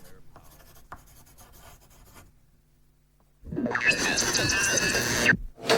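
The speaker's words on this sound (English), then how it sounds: "Eventually, he resumes his writing." Pen scratching across paper at a desk in a radio drama scene, a quiet stretch followed by a louder, sustained close scribbling that stops abruptly, with faint talk earlier.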